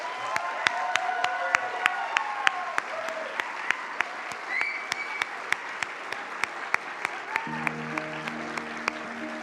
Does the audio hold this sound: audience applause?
yes